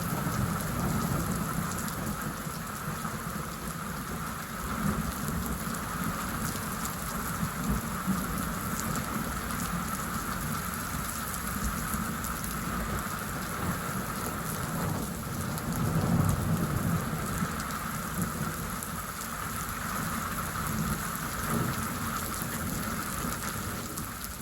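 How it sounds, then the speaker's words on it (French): Torrential rain pours down in a summer thunderstorm with strong gusts, a dense steady roar of rainfall on surfaces with low rumbling thunder underneath, loud and continuous throughout, no voices. "C'est un déluge torrentiel."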